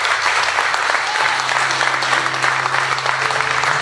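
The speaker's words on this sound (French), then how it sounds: "Est-ce qu'on peut acclamer le Seigneur?" A church congregation applauds in a dense, loud, continuous wash of clapping that fills the room without a break.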